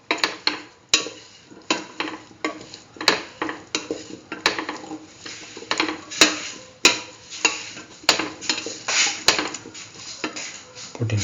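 Cauliflower and chayote stew being stirred in a metal pot, with a steady run of sharp clinks and scrapes from the spoon against the pot and a soft wet churning underneath, close and moderately loud with no talking.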